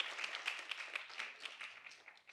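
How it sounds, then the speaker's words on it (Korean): Brief clapping from an audience at a lecture on memory and dementia, a short burst of hands that fades over a couple of seconds with no talk on top. "박수 한번 쳐주시죠"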